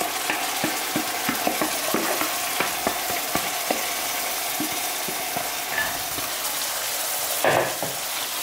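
Chicken breast meat with spices sizzles in a pan on browned fried onion, stirred with repeated scraping clicks of a utensil over a steady frying hiss, close and moderately loud, no talking.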